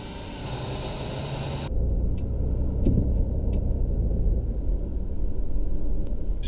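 A MAN Lion's Intercity coach in Tourist Bus Simulator gives a steady low engine and road rumble that grows slightly louder partway through, with a few faint clicks on top.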